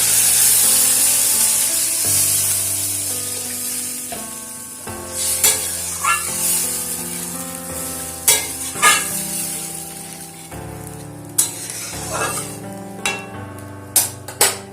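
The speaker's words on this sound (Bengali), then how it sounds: "এবারে আমি এর মধ্যে দিয়ে দেবো পরিমাণ মতন জল।" Water hits a sizzling fried spice paste for a parshe fish curry with potatoes, giving a loud hissing sizzle. Sharp stirring and pan clatters follow, all under background music.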